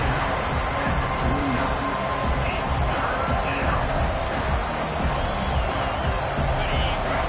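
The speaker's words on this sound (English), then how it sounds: "Decibels rising as the crowd gets behind this defense on third down." A stadium crowd roars at a football game, a dense, loud and continuous wash of cheering and shouting with a commentator talking over it.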